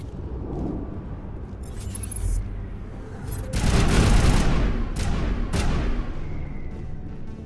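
Heavy sniper rifle shots in the sci-fi game Mass Effect: Legendary Edition, several booming blasts with rumbling tails and scattered combat noise around them, loud and close.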